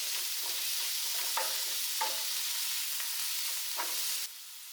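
Shark fish curry masala sautéing in a pan that is not an earthen pot, a steady bright sizzle with a few light stirring scrapes, then the hiss drops suddenly near the end; no talking.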